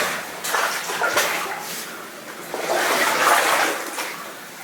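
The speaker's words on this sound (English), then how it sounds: "I can hear some rushing water" A rushing mountain stream makes a broad, steady wash of water noise with gentle surges, fairly close and without voices.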